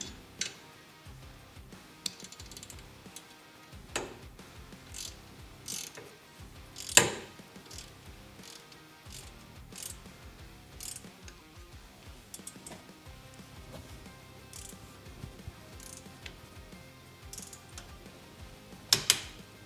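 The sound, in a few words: torque wrench tightening skid plate bolt on Harley Road Glide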